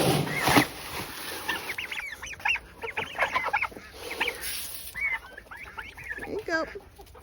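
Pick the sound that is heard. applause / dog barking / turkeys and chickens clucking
turkeys and chickens clucking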